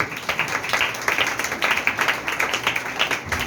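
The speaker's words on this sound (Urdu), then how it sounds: "زوردار تالی دیں گے" A church congregation claps at a Urdu-language Easter sermon, a steady, moderately loud patter of many hands with rhythmic surges, continuing without talk.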